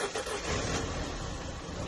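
A car's engine, just reinstalled after a swap and recently primed, revs loudly and steadily at close range, a dense rough roar with no talk over it.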